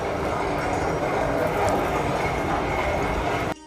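Continuous loud mechanical rumble with rhythmic clattering plays as the sound effect of a Delhi Metro tunnel boring machine model at a metro museum, steady throughout and cutting off abruptly at the end.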